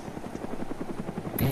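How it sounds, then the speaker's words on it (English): A helicopter flies in the video game DayZ Mod, its rotor thudding in a steady rapid rhythm at moderate loudness, with a brief brighter burst at the very end. "he got his friends coming over here in the heli"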